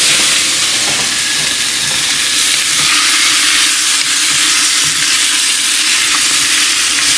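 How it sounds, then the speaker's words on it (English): Mushrooms and roast pork are stirred in a clay pot for an oyster dish, giving a loud, continuous sizzling hiss that fills the whole stretch with faint stirring scrapes underneath. "And I'm going to put in the roast pork. And keep on stirring."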